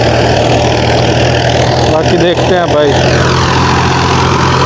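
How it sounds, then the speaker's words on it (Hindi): Tractor engine idling steadily beside a threshing machine in a rural field, a low continuous hum under someone talking briefly. "ये वाला ये ट्रैक्टर है, वो थ्रेशर है।"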